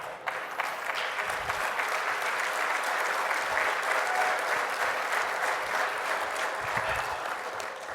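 A large crowd applauds steadily, dense clapping sustained for several seconds without pause.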